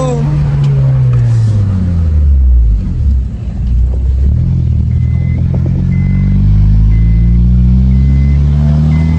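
A modified Honda Civic drives along with a loud, close engine drone that holds steady, dips briefly, then climbs again in pitch as it accelerates, with a low road rumble throughout.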